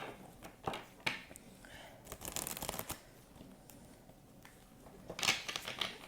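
Oracle cards shuffled by hand for a holiday-season reading, a soft papery riffle and flutter of the deck in uneven bursts, close and quiet, with no talking.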